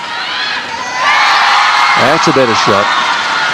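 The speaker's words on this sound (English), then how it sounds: "the cheer squad get those thunder sticks noisy once more" Netball crowd at a SEA Games semi-final between Malaysia and Brunei, with a cheer squad rattling thunder sticks amid loud, continuous cheering and whooping from a large crowd, while a commentator briefly talks over it.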